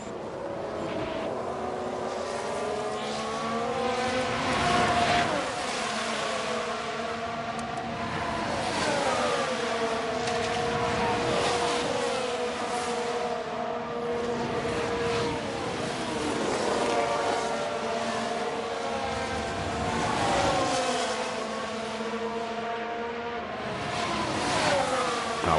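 Several F1 Manager 23 race cars overtake one another at Jeddah, their high-pitched engines continuously droning and shifting in pitch as they pass, with no pause across the whole stretch.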